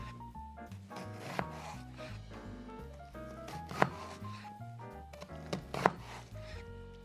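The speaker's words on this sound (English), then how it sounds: "I'd say about 1/4 inch slices all the way across the onion, trying to hold it together as much as possible." A knife cuts an onion into quarter-inch slices on a board, a few crisp thuds spaced irregularly under steady background music, with no talk.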